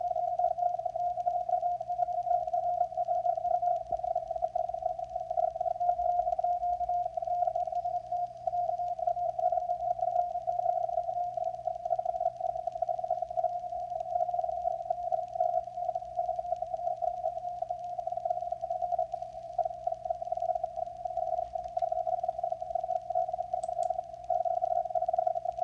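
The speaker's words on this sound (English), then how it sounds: "Everybody's calling CQ, trying to find other hams and talk to them by tapping out Morse code." Morse code on the 160 meter amateur radio band during a contest, a steady continuous tone with rapid keyed pulses over faint receiver hiss and hum, no talking.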